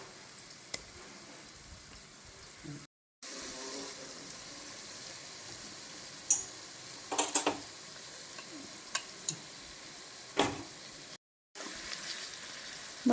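Vegetables fried in a pan with ginger garlic paste for vegetable pulao are stirred with a spoon, making intermittent scraping clicks and taps over a quiet, soft sizzle, with two brief gaps of silence.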